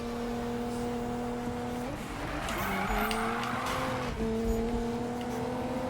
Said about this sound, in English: See that little drift I did?